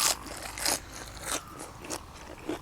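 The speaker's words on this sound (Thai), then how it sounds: "เคี้ยวไม่ขาด เพราะไม่ไหนเมื่อกี้เคี้ยวไม่ขาด" Someone bites and chews tough food that won't tear apart, giving close, loud crunching bites in a steady rhythm of about five chews with short pauses between them.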